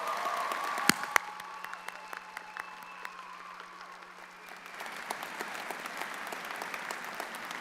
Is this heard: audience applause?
yes